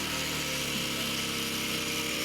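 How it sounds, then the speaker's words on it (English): An angle grinder powered by an inverter generator cuts wooden posts down to size outdoors in the woods, a steady, loud, dense whine and rasp that holds unbroken throughout with no voices. "We fire up the inventor generator, plug in the grinder, and start cutting the post down to size."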